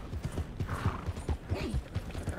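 A startled draft horse in Red Dead Redemption 2 neighs over a steady, close clip-clop of hooves, the rising whinny cutting through the rhythmic plodding midway.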